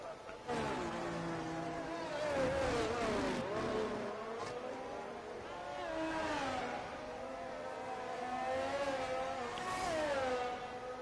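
A Formula 1 race car engine screams around Monza in the F1 22 racing game, its pitch climbing and falling through repeated gear changes as the car accelerates down the lap, loud and continuous.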